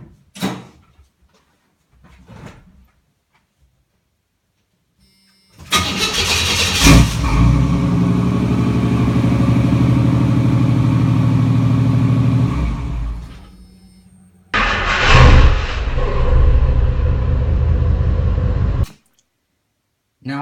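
A car with a MagnaFlow exhaust cranks over and starts in a garage, settling into a loud, steady rumbling idle for several seconds, cutting off, then firing up and idling again before shutting down.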